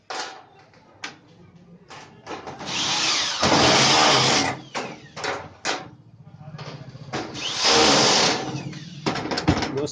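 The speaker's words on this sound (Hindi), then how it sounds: "ये ड्रिल मशीन की मदद से ये हम टाइट कर रहे हैं इसको।" A power drill driving screws into an air cooler body, whirring in repeated bursts with a couple of long sustained runs, close and loud, broken by clicks and handling knocks.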